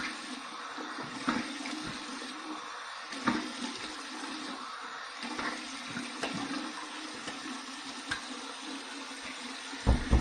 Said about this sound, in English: let me do my cold water rinse